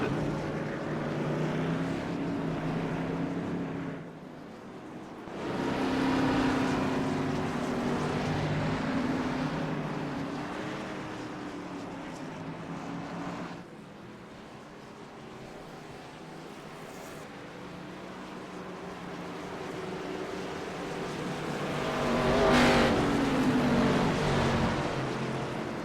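Race cars pulling off pit road at Iowa, their engines a steady, loud droning roar that swells and fades as the pack moves away and comes back around.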